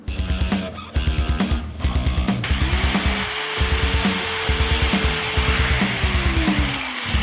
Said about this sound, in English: our old bolts had a lot of Loctite on them from the factory, so we're just going to clean them off with a wire wheel